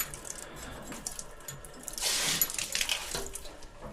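Water gushes and splashes from a leaking pressure relief valve on an HVAC system, a continuous close-up flow that swells briefly midway.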